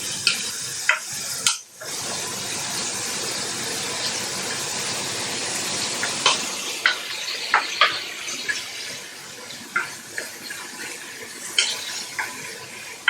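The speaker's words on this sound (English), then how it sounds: "Actually, the whole frying of the filling will take you less than 10 minutes." Chicken pie filling with potato sizzles steadily in a frying pan, loud and close, as a spatula scrapes and stirs in repeated strokes, with a brief pause early on.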